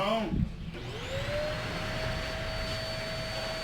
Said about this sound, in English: Got our little vacuum cleaner on.